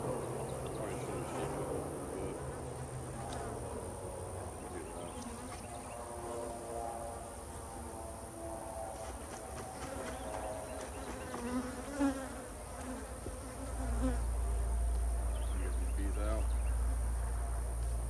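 Honey bees buzzing around a beehive fitted with quart jar feeders, a dense steady hum of many insects close by, with faint voices in the background and a low rumble rising near the end.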